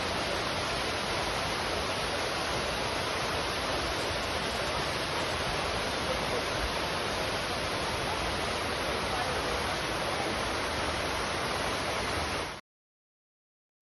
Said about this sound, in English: a beautiful waterfall to cleanse ourselves with